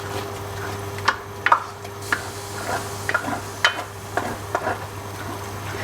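Cottage pie filling sizzles steadily in a pan on the stove while a utensil stirs and scrapes through it in irregular bursts, close and fairly loud, with no talking.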